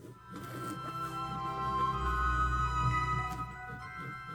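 Sewing machine running steadily as it stitches navy and blue quilt strips together into one long seam, a close, even mechanical whir with a low hum that swells slightly midway.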